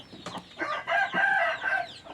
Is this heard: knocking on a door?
no